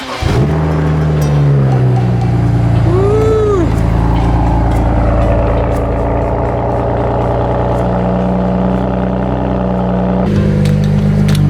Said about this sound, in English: I gotta run the car.